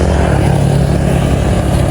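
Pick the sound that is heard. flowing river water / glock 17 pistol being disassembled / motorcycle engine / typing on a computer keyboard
motorcycle engine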